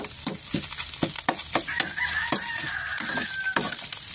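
Ground pork sautés in a pan with a steady sizzle, broken by repeated sharp scrapes and clacks of a utensil stirring close by. A rooster crows faintly in the distance.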